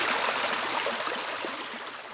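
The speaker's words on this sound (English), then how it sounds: "I like to sit and listen to the creek." A creek flowing beside a garden, a close, continuous rush and burble of water that fills the scene evenly and eases slightly toward the end.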